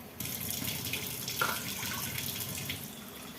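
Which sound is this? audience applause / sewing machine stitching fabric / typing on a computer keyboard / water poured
water poured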